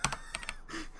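Rapid burst of keys mashed on a computer keyboard, a quick cluster of clicks and clacks up close, then a short pause and a few more taps.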